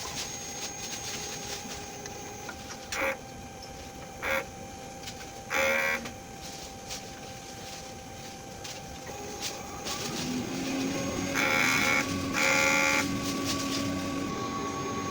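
An inkjet printer runs a print head cleaning cycle, its mechanism whirring steadily with short clicking bursts and a louder rising motor hum toward the end, close and alone.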